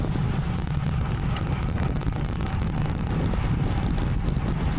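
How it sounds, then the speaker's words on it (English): Steady crosswind buffeting while cycling on a rural road ride, a continuous low roar rushing across the microphone for the whole stretch, loud and unbroken with no talk. "So we've now picked up the crosswind"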